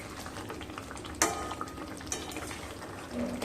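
A spoon stirs spiced katla fish curry in a pan. The stirring stays soft and low, broken by a couple of sharper clinks against the metal, with a faint simmer underneath.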